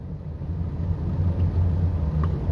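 A white Range Rover's engine runs with a steady low rumbling drone, constant and fairly loud throughout with no distinct revving or changes.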